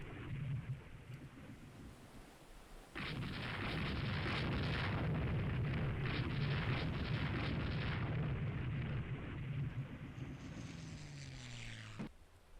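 Naval combat in the Rule the Waves 2 warship game, a sudden loud rushing roar of shell and torpedo hits that holds for several seconds and then sweeps down in pitch before cutting off, without speech.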